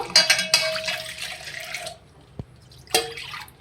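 Water in which mangoes were boiled is poured into sweetened water with dissolved sugar while making aam panna, a mango drink. Close, splashy pouring comes in short bursts, with a single drip in a quiet gap between them.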